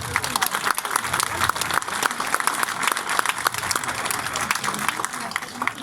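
An audience claps steadily at a traditional Alsatian costume presentation in a wine village, a dense, sustained round of applause from a crowd with no pauses.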